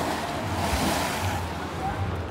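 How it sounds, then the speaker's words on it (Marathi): Sea waves wash and splash against the rocky shore at Ambolgad beach near the jetty in Ratnagiri, Konkan, a continuous loud roar of surf with wind buffeting the microphone. "या साईडला पण लाटा बघा कसं पाणी जर लागतंय तेव्हा उडतात बघा कसे"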